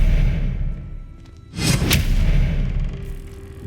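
Expelliarmus spell cast in Hogwarts Legacy: a sudden whooshing burst with a heavy boom rises out of a low rumbling background, then fades into a lingering hum.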